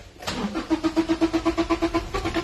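A car's engine struggles through a hard start, cranking in a quick, even run of about a dozen loud, close pulses that keep going without settling into a clean idle.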